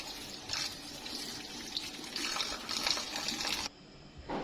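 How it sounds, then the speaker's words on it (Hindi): Rice for a sweet zarda dish rinsed under running water in a sink, a steady close splashing gush with swelling surges, ending in a quieter trickle. "ये चावलों को मैं अच्छे से धो लूंगी"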